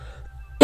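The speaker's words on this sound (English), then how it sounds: "Still not shifted that cough." A single sharp human cough bursts out at the very end after near silence, short and close.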